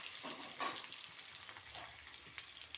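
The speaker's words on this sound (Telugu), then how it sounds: "పోపు వేగిందండి, ఆనియన్స్ వేసేస్తున్నాను." Sliced onions go into hot oil already crackling with tempering seeds, giving a soft, steady sizzle with occasional light pops and stirring scrapes, fairly quiet and close, with no talking.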